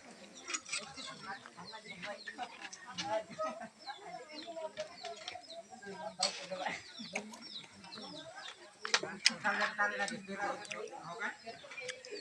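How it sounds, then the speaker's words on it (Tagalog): Chickens cluck and squawk intermittently at moderate distance while people talk nearby throughout. "Ay, manok man."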